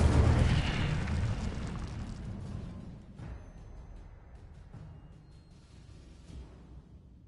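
A fiery Incendio spell blast from Hogwarts Legacy erupts loudly at the start as a broad roaring burst, then slowly fades into a lingering rumble with a small pop near the end.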